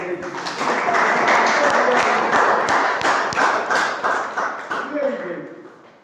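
An audience claps at a public talk on water conservation in India, a burst of scattered hand claps swelling then thinning out over several seconds, with voices mixed in.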